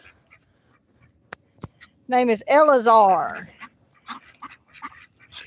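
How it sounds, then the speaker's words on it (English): A large farm duck on a yard gives a loud run of harsh honking quacks in the middle, close by, with a person speaking briefly before and quiet stirring after. "this is our largest duck on the yard"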